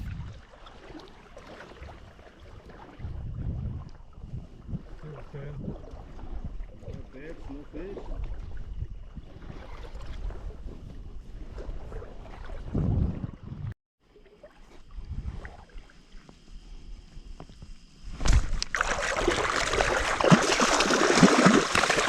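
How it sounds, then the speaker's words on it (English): A small boat moving across channels between sheltered sandbanks on a flounder gigging trip, with water sloshing and knocking against the hull, ending in a louder rush of motor and spray. "We're getting in the boat and we're moving from one sandbank to the next"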